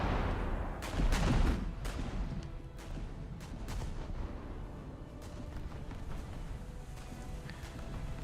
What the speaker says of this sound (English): So I'm going to shoot at the cruiser first.